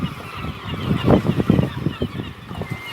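Kittiwakes on a nesting cliff give harsh, overlapping honking calls in quick irregular bursts, moderately loud, with no voices.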